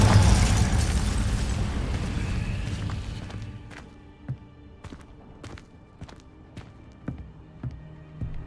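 A fire spell explosion in Hogwarts Legacy booms loudly at first, then rumbles and fades away. A few faint, scattered taps and pops follow.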